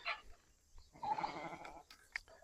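A sheep that has been dyed pink gives a short, close bleat in the middle, framed by scattered rustling and handling noises in a quiet space.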